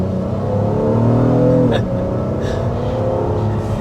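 Naturally aspirated 3.5-liter V6 engine of a 2025 Honda Pilot Black Edition running steadily, a smooth, loud harmonic hum with a brief click midway and a slight dip afterward.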